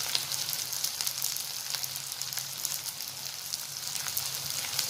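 Onion, capsicum and cauliflower fry in a pan with a soft, continuous crackling sizzle, fairly quiet and even, with small sharp pops scattered throughout.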